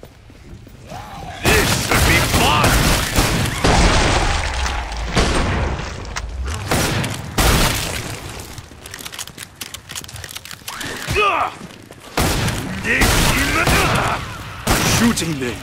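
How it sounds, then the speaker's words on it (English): Gunfire in Killing Floor 2 on Hard difficulty roars in dense, sustained bursts with heavy booms and mechanical clatter, broken by brief lulls and restarting loudly, while a voice talks now and then underneath. "Shooting them is almost too easy."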